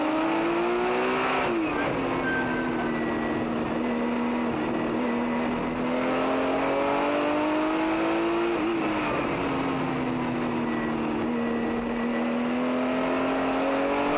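A Porsche 935 race car howls around the track at the Rolex Monterey Motorsports Reunion, its engine note loud and steady with rising and falling pitch through the turns for the whole stretch.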